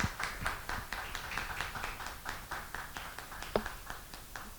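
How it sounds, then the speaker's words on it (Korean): Audience claps after a presentation at an innovation seminar, a thin, sparse round of applause from a small group with distinct individual claps fading and picking up again. "저 큰 박수로 다시 한번 감사를 표합니다."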